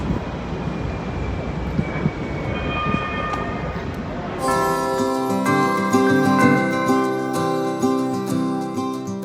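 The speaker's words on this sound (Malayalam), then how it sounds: "ട്രാം കണ്ട, ട്രാം" A city tram in New Jersey rumbles past with a low rolling drone, first under a person talking and then mixed with louder tonal sound.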